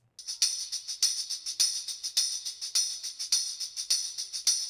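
A bright tambourine overdub, recorded through microphone modeling, shakes and strikes in a steady rhythm, sharp jingly hits recurring about twice a second, close and crisp with no other sounds.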